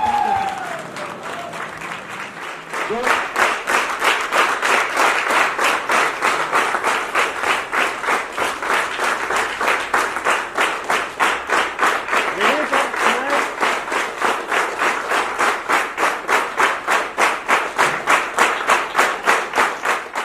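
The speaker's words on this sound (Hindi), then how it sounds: "तालियों की गड़गड़ाहट कम नहीं रहनी चाहिए।" A voice speaks briefly before a training-session crowd bursts into loud applause that settles into strong, rhythmic, evenly timed group clapping, beating steadily for the rest of the stretch.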